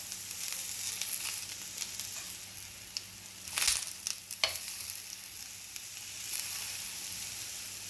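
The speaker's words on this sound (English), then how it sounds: "So we have to just sear them a little bit, just give them a little searing like that." Eggplant searing in a hot pan, a continuous bright sizzle up close, broken by a few quick stirring scrapes midway.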